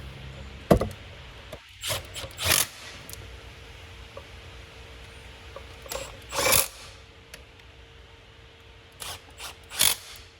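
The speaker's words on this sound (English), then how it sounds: "Now use our power tool." A power tool drives screws during a Wagner Titan paint sprayer motor change, giving several short whirring bursts separated by quiet pauses, close by and moderately loud.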